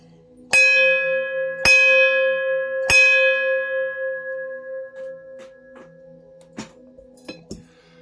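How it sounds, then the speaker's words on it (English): A bell is rung three times in a steady, evenly spaced sequence, each strike close and loud with a long shimmering ring that overlaps the next, then decays under a low hum with a few faint knocks. "Now I'm going to ring the bell."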